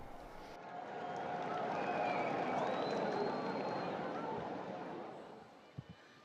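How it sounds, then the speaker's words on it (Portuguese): Large outdoor crowd in St. Peter's Square applauding and cheering the Pope at the Apostolic Palace window before the Sunday Angelus, a broad sustained roar swelling and fading, with a couple of brief knocks near the end. "recebe aplausos de todos que o acompanham direto da Praça São Pedro"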